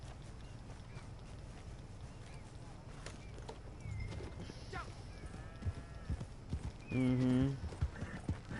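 Hooves clip-clop at a walking pace amid ambient Red Dead Online game sounds, with a brief horse whinny and a short spoken murmur.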